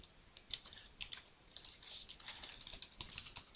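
Rapid keystrokes on a computer keyboard, a close, quiet run of light clicks entering a search term, with no voices.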